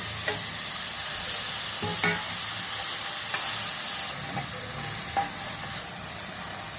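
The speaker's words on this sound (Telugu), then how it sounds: "ఇది ఉల్లిపాయ, పచ్చిమిర్చి, కొత్తిమీర వేసేస్తున్నాను. ఇవి వేగిపోతాయి." Sliced onion, green chillies and coriander sizzle steadily in hot oil for a fish curry, with a continuous close hiss and a few soft clinks of stirring.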